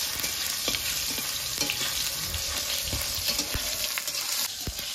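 Tomato stirred and fried in a pan for a vegetarian poppy-seed paneer dish, a dense, even sizzle with frequent scraping strokes and soft knocks of the spatula, close and continuous.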